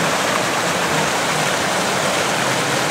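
A river rushing past a swimming hole on a hot day, steady broadband water noise close by with no break, no voices over it.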